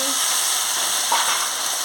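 Vegetables, including potato, pointed gourd and ivy gourd, hit hot oil in a pan with a steady, close hiss of frying that holds level through the short moment.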